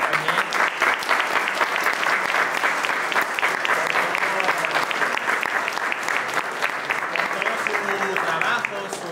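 Sustained applause fills the room at the opening of an art exhibition, as a crowd claps steadily and evenly for about nine seconds before it begins to thin out.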